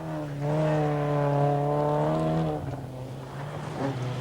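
Opel Manta 400 rally car driven by Erwin Weber and Gunther Wagner on a 1985 Lombard RAC Rally stage, engine note rising steadily as it accelerates, then dropping away, loud and close without talk.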